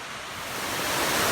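Rushing water from the Thi Lo Su waterfall, a broad continuous roar with no voices that swells slightly louder toward the end.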